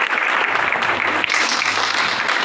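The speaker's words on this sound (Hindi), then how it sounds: "एक बार उस इंसान के लिए जोरदार ताली होनी चाहिए।" Sustained audience applause fills a crowded seminar hall during a cryptocurrency income-plan presentation, a dense, steady wash of clapping heard alone for the whole stretch.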